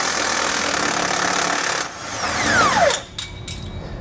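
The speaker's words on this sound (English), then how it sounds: "I'm going to use a 21mm socket to remove the bolts." A power tool fitted with a 21mm socket whirs loudly and continuously as it removes bolts, then winds down with a falling whine, followed by a couple of short bursts.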